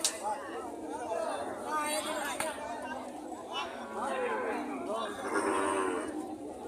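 Huge Indian bullocks at a busy cattle market in Panchbibi, Joypurhat, give out repeated low moos. People chatter loudly around them the whole time.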